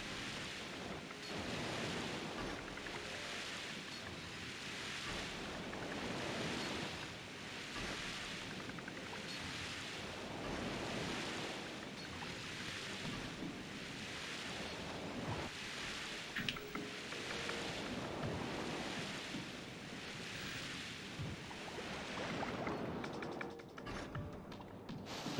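Ocean waves in the Paper Mario: The Thousand-Year Door video game roll in soft, slow, regular swells of hissing surf, quiet and continuous, with no voices.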